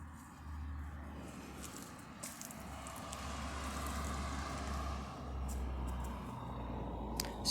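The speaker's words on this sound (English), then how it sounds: "Excuse the sound of the traffic." Road traffic passes beside a garden, a faint, steady low rumble of cars and trucks that swells and fades as vehicles go by, with light rustling and no voices.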